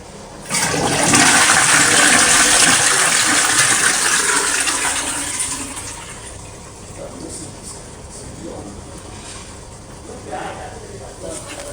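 A toilet flushing with a loud, close rush of water that gradually fades into a quieter refilling trickle, with a voice briefly heard toward the end.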